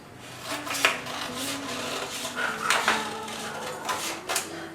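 Scissors cutting the front neckline of a tailoring pattern: soft, repeated snipping and rubbing strokes at close range, steady and moderately quiet, with a low tonal hum underneath.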